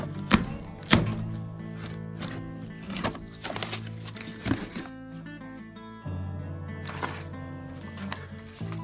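A knife slices open a cardboard box holding an X-Bull 62cc chainsaw, with sharp thunks and scraping cuts at close range, irregular and fairly loud.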